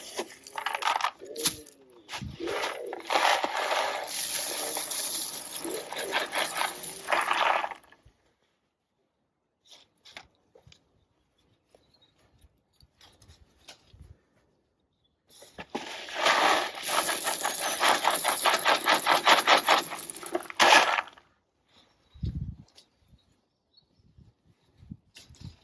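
Shingle gravel is shovelled and tipped from a bucket against the edge of a garden pond, two long loud rattling pours separated by quieter scraping and clinks outdoors, with no talking.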